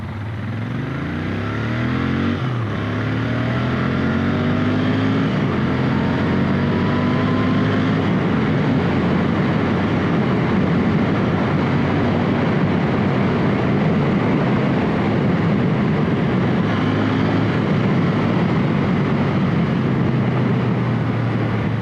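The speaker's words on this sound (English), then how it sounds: "For now it sounds really smooth. And it has that slight hint that it's a Royal Enfield." Royal Enfield 650 twin motorcycle engine idling steadily, a smooth low parallel-twin rumble that rises briefly at the start then settles into a continuous, close, loud drone with no talking.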